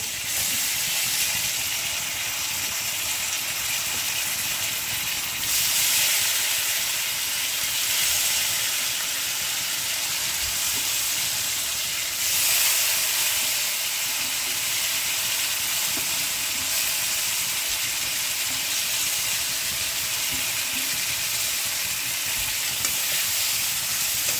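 Gobindobhog rice dry-frying in a pan gives a steady, continuous hiss and soft sizzle with little change in loudness throughout, no voices.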